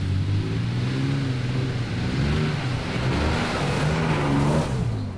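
A Toyota Tacoma on Falken Wildpeak AT3W all-terrain tires drives over snow and ice, giving a continuous loud roar of engine and tire noise with a rushing, surf-like hiss and no voices.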